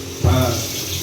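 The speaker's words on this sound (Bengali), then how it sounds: "হাতটা ধুয়ে নাও, হাত টাত সব ধুয়ে নাও।" Water from a tap gushes briefly onto hands being washed, a close rushing splash that starts abruptly and settles into a steady flow.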